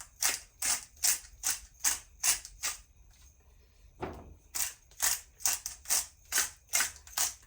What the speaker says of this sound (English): Ground black pepper.